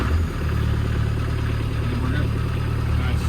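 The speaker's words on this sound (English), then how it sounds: "So it sounds like a diesel." A boat's diesel engine idles steadily after starting, a low, even throbbing rumble close by, with a person speaking briefly over it.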